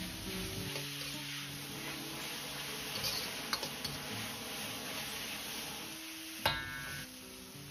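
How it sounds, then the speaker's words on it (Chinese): Drained potato-noodle ingredients sizzle steadily as they are stir-fried in a hot wok with chili and ginger-garlic, a continuous crackling fry with a few sharp clicks of the spatula against the metal. "接着倒入控干水分的食材翻炒，炒干表面多余的水分"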